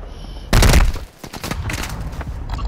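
A loud sudden burst of automatic gunfire in Warzone 2.0, a sharp volley that drops away and returns as scattered rattling shots in the background.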